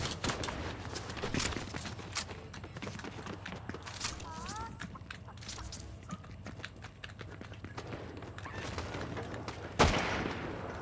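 Video game gunfire in Fortnite: rapid bursts of sharp cracks and shots scattered through a busy mix of footsteps and game effects, fairly loud, with a louder burst near the end.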